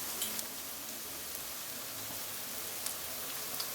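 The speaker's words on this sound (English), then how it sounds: "I need to deglaze it with a little bit of wine" Cooking wine hisses in a pan of rosemary chicken while deglazing, a soft, steady sizzle with faint crackles throughout.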